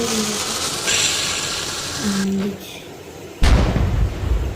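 A French fries firework from Fireworks Simulator 3D goes off with a hissing fizz, then a sudden loud burst that crackles and roars on to the end.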